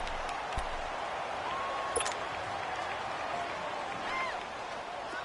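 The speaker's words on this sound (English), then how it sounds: "the crowd getting into it as we come up on a big third down" A stadium crowd in a football video game broadcast cheers and applauds at a steady distant level, a soft continuous roar with scattered whistles and a commentator's voice talking over it.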